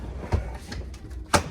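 A piece of wood falls indoors, giving two sharp knocks about a second apart, the second louder, with quiet room noise in between.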